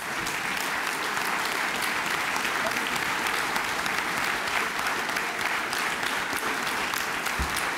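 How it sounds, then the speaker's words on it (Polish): Steady, dense applause from a crowd at a European election convention of the SLD party, continuous clapping that stays even and full throughout. "A tutaj sam się musiałem domagać tych oklasków."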